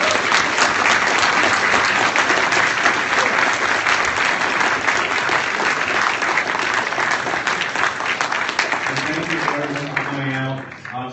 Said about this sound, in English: everyone get a round of applause for Ben Shapiro